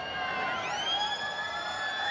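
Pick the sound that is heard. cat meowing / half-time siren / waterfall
half-time siren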